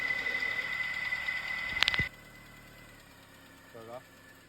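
A car engine idles while the driver reverses and slowly eases off the brake. A steady hum is broken by a sharp clatter, then the engine continues more quietly with a brief rumble near the end.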